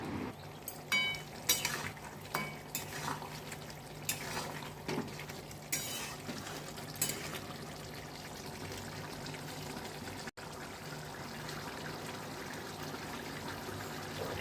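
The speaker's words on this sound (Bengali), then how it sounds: "এবার গ্যাসের ফ্লেমটাকে একটু বাড়িয়ে দিয়ে ভালো করে কষিয়ে নিতে হবে" Mutton being stir-fried over a raised gas flame for Bengali goat curry: a steady close sizzle runs throughout, with repeated scraping and clattering of a spoon against the pan and brief louder stirring bursts, no voices.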